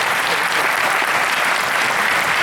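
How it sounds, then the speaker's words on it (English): Dense, steady applause from a seated audience at a talk, continuous and loud throughout with no breaks. "Keep clapping."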